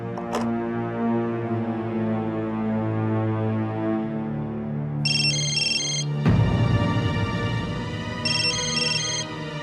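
A phone ringtone sounds in a TV drama scene, bright repeating electronic tones chirping in short bursts over a sustained musical background, loud and near, with no voices.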